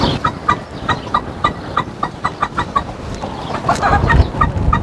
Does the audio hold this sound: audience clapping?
no